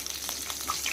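Fresh curry leaves sizzle in hot oil, giving a dense, close, crackling hiss with small pops throughout a short moment.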